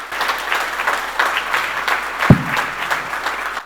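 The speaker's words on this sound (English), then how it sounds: "Can we please have a huge round of applause for them?" An audience claps for Yogesh Shinde and Dr. Anand at a felicitation event, continuous moderately loud applause across the stretch, with a single sharper thump partway through.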